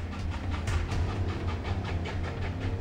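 A steam-hauled troop train runs past the hamlet of Canoe River, a steady low rumble with rhythmic clickety-clack of wheels on rail joints, moderately loud and continuous, with no voices.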